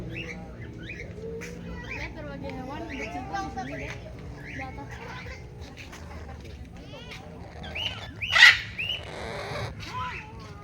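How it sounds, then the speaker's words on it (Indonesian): Cockatoos and parrots call in an aviary at Orchid Forest Lembang, with scattered chirps and squawks under ongoing talk and one louder, close squawk near the end. "Ya, ini ada burung kakatua ya, yang tidak terlalu besar."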